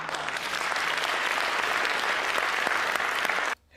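A TED Talk audience applauds, dense and sustained clapping filling the room at steady volume before cutting off abruptly near the end.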